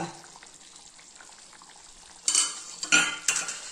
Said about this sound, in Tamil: இது ஒரு அஞ்சு நிமிஷம் கொதிச்சு வரட்டுங்க